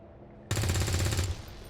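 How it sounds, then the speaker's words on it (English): A soldier in the video game XCOM 2 fires a rapid burst of automatic gunfire that starts abruptly after a brief quiet moment, lasts under a second, and fades into a short tail. "So I want you to shoot the gunner."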